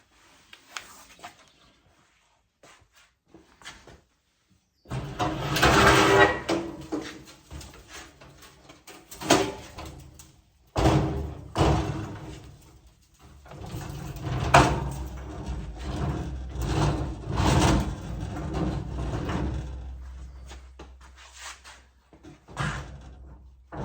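A heavy tool chest fitted with heavy-duty casters is flipped over, giving loud scraping, thumping and rubbing bursts with clunks, separated by brief quiet stretches.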